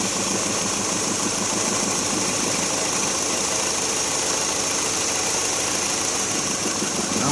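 A car engine runs steadily at idle during a fuel injector and misfire check, giving a continuous, close, rough mechanical drone with a faint ticking vibration and no voices.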